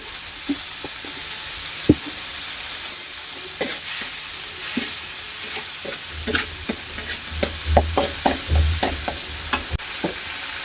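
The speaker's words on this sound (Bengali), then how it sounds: "মশলাটাকে আমি একটু কষিয়ে নেব।" Spice paste with cumin and turmeric powder frying and being stirred in a pan for a beef curry, a steady soft sizzle broken by repeated scraping stirs and clinks of the spoon.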